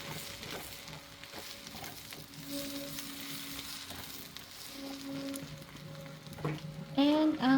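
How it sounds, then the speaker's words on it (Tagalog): Garlic and onion sauté in a pan still holding oil from fried chicken, a steady soft sizzle throughout with a few brief clanks and a louder burst near the end. "Let's saute garlic and onion."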